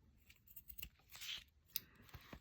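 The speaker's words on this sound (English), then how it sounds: "so I'm just going to cut them here, right there and right here" Scissors snipping paper pieces for a collage, a few quiet, irregular cuts close by with soft paper rustling in between.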